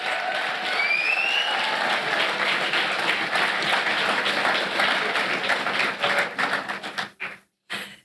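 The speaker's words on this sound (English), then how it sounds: "Another round of applause for the Brotherhood drummers." A large audience at the opening ceremony of the 19th Caribbean Week of Agriculture claps loudly and steadily for the Brotherhood drummers, the applause thinning into scattered claps and stopping near the end.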